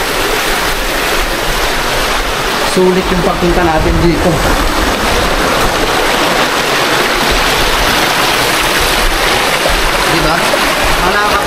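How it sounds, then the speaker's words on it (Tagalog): Strong rushing water pours in a loud, continuous roar close by, with a person speaking briefly over the torrent. "Diba napakalakas ng tubig dito sa area?"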